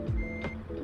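Reversing beeps from a truck backing a trailer in American Truck Simulator sound as a steady electronic tone over a low engine rumble, with no voices.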